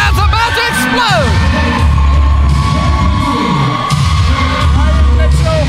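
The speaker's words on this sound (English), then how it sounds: "But now this crowd's about to explode." A wrestling crowd at an RWA event cheers, whoops and yells loudly, a dense roar of many voices with rising shouts and a commentator talking over it.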